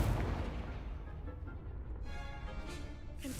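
A fire spell going off in the Hogwarts Legacy game, a dense rumbling whoosh that starts heavy and fades, with no talk over it.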